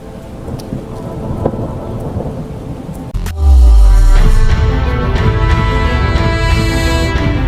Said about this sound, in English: with rain adding a magical touch to the already stunning waterfalls